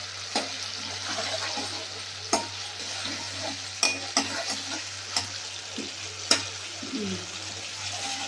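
Spice paste frying with tomatoes in a pan for doi potol, a steady sizzle broken by repeated sharp scrapes and knocks of a spatula stirring, with a low hum underneath and no talk.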